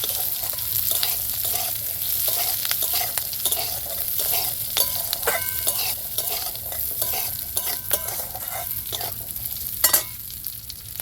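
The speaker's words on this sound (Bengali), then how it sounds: "দেখুন বন্ধুরা, কাজু বাদাম খুব সুন্দর ভাজা হয়ে গেছে।" Cashew nuts frying in oil with curry leaves, raisins and chopped green chilli, stirred with a spoon: steady sizzling under repeated scraping and clinking strokes against the pan, close and continuous throughout.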